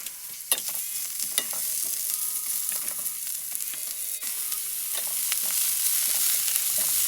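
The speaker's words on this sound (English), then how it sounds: "Then fry the chopped onion in the frying pan." Chopped onion frying in hot oil in a frying pan, a steady crackling sizzle with occasional sharp pops and scraping stirs, close and continuous without talk.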